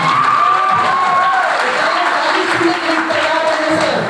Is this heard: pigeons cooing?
no